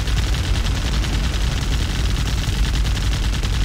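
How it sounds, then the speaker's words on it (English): Relentless gunfire in the co-op twin-stick shooter Assault Heroes 2, a dense, loud, unbroken barrage of rapid shots and blasts with no pause. "Shoot it, shoot it, shoot it. Just keep spamming it."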